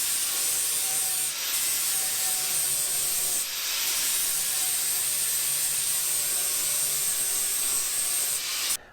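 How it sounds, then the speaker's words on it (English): Sandpaper rubs steadily back and forth on wood of a small boat's cockpit footwell, a close, continuous scratchy hiss with brief pauses between long strokes. "Okay, sanding. Sanding is the fun part."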